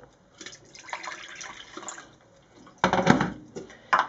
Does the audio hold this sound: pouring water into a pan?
yes